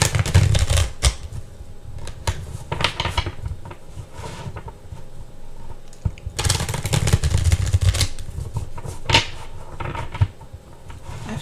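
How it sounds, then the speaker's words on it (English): Tarot cards shuffled by hand at close range, fast papery riffles and slaps coming in uneven bursts with short pauses between them. "let me do just like a quick shuffle"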